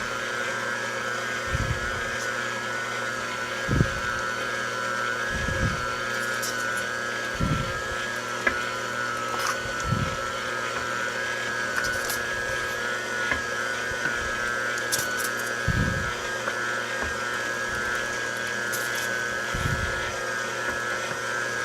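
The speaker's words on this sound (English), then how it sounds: "So we're going to start regrinding this." A meat grinder regrinds cold, partly thawed seasoned sausage meat, giving a steady motor whine with a regular low thump every couple of seconds and occasional faint clicks, no speech.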